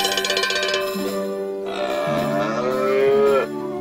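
A cow in South Park: The Stick of Truth video game lets out a long, loud, close moo that shifts in pitch, holding for several seconds before cutting off abruptly.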